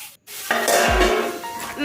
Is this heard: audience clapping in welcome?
no